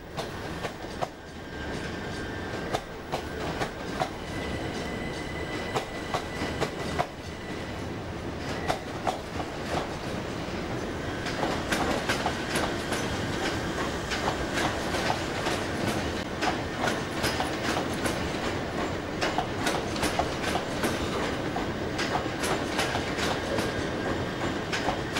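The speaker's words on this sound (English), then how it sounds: "As this Electrostar departs from Fenchurch Street" A Class 357 Electrostar electric train in c2c livery departs Fenchurch Street, wheels clattering rhythmically over rail joints with a steady rolling rumble that builds as it gathers speed, no voices.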